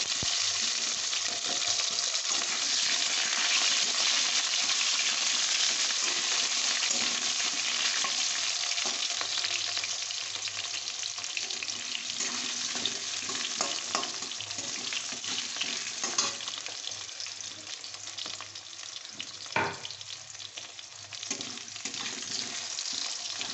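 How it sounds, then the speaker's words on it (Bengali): Long-cut potatoes fry in a little hot oil tempered with nigella seeds, a dense continuous sizzle that stays close and steady, easing slightly partway through with a few crackles and pops, no voices. "এর মধ্যে লম্বা লম্বা করে কাটা আলুগুলো দিয়ে দেবো।"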